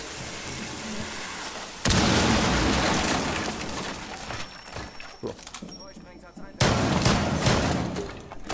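A grenade goes off during a Rainbow Six Siege match, a loud burst of blast and crackling debris, followed later by a second heavy bang amid the chaotic game noise.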